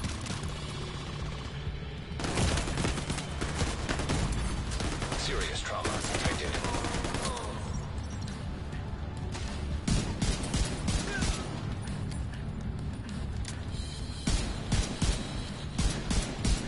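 Gunfire loaded with flame bullets in the video game The Division 2: long stretches of loud, rapid automatic fire in repeated bursts with short gaps and sharp impacts, with a voice talking under the shooting.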